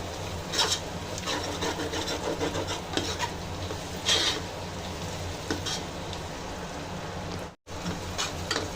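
Onion and tomato with salt frying in a pan for a chicken pulao biryani, giving a steady close sizzle with rough scraping and stirring strokes throughout, briefly cutting out near the end.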